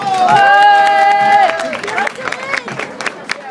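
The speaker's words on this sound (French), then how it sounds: "on l'applaudit bien fort" An audience at a stage hypnosis show claps and cheers loudly over a sustained shout or whoop, then settles into scattered clapping and crowd murmur.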